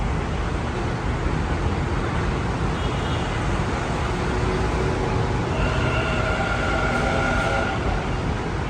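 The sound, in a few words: metro train arriving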